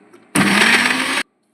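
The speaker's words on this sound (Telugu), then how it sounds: "ఆనియన్ వేసి మిక్సీ చేసాము ఒకసారి." A kitchen mixer grinder blends corn batter with chopped onion in one loud, steady whirring burst of a little under a second, stopping abruptly into silence.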